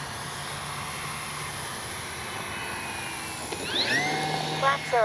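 A CNHL Super Tucano RC airplane drones steadily in the evening air during a touch and go, its electric motor whine rising and sweeping upward near the end as power comes on.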